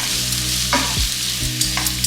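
A spoon stirs pasta cooking in milk, seasoned with black pepper, in a pan on the stove. A few soft scrapes sound over a steady low sizzle, with no talking.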